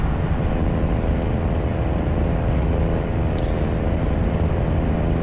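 A simulated Cummins N14 truck engine in a trucking video game drones steadily and loudly with no breaks, a dense rumbling idle or cruise tone under a faint high whine, with no one speaking.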